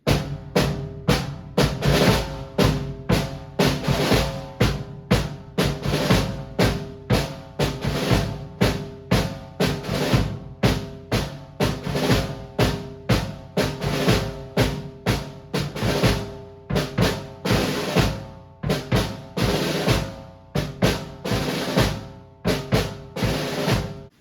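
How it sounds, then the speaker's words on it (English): A drum kit plays a steady tango rhythm of even quarter-note kick and snare hits, with short buzzing snare rolls recurring throughout, loud and close. "Quarter notes on the snare, quarter notes on the kick."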